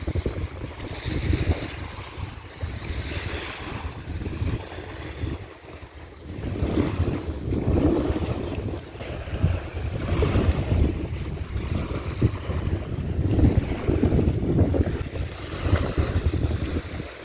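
Waves wash in repeated surges on a beach near rocks, mixed with gusty wind buffeting close to the microphone, with no one speaking.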